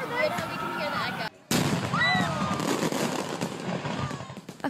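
Fireworks at an Independence Day display in Simi Valley, California burst in a rapid string of loud pops and crackles with whistling rockets, interrupted by a brief gap, as people talk and shout nearby.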